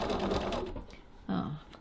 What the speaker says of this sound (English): And stitch the sides of my pocket.